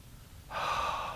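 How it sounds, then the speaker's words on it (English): A single deep inhalation at the close of a yoga session, starting after a short quiet moment and continuing as a steady airy rush for under a second, close and clear, with no talking over it. "A deep breath in."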